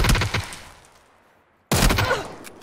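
Gunfire in the battle royale game PUBG comes as two loud, close bursts of rapid shots separated by a short pause.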